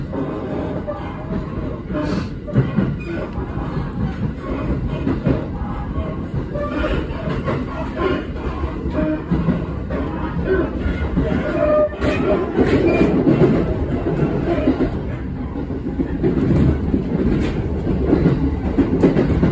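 Inside a moving train in Japan, steady rhythmic clickety-clack and a continuous low rumble, with faint voices in the background throughout.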